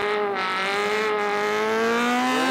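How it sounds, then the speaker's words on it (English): Racing car engines roar together at the start of a race at Winton, including a Mini and a Bluebird, revs climbing in a loud, continuous, rising drone throughout. "Listen to those engines roar away."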